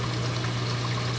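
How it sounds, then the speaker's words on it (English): Water from a biopellet reactor in a reef aquarium setup pours steadily into a protein skimmer inlet, a constant close trickling stream over a low pump hum, with no talk. "all the water coming out of the reactor is going right into the inlet of my skimmer"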